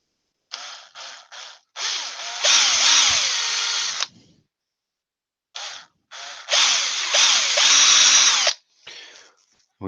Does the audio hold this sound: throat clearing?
no